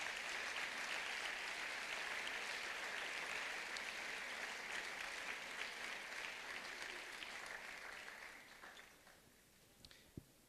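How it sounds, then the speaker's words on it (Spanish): Church congregation giving an offering of applause to the Lord, steady loud clapping from a full room that holds for about eight seconds before thinning and fading out, with a few last scattered claps. "Denle una ofrenda de palmas al Señor."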